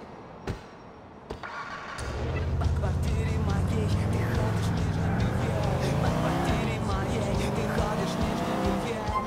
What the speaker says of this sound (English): Niko, you're driving us to a hardware store on Dillon Street